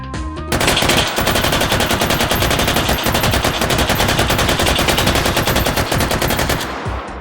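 M249 SAW light machine gun with a 60-round load, fired in the VR game H3VR: one long, loud, continuous burst of rapid automatic fire lasting several seconds, then cutting off.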